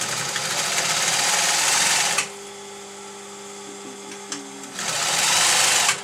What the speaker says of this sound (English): And I'm just going to stitch this down.